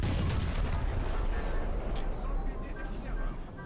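A tank cannon shot slams into an M1 Abrams in a video game, loud booming impact noise and rumbling battle din across the whole clip, with artillery-like bursts and someone talking over it.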